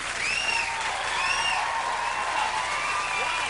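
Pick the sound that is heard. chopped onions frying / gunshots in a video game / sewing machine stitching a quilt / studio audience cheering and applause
studio audience cheering and applause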